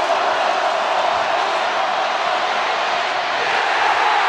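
Dense stadium crowd noise at a Georgia versus Missouri college football game, a steady broad roar of cheering that holds loud and even throughout without letting up.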